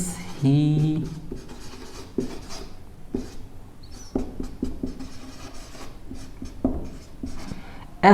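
Writing on a board during a lesson, with scratchy marker or chalk strokes coming in short bursts, partly under a voice speaking nearby.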